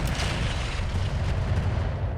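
Cannon fire from an Eldorado mech in the Solaris arena of a BattleTech-style game, a steady heavy booming rumble filling the whole stretch, loud and dense with no clear gaps between blasts.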